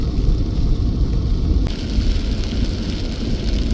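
A thunderstorm over the Two Sisters mountains near the Bowron River, with steady broadband rain hiss and a deep continuous rumble of thunder rolling throughout, loud and close, with no voices.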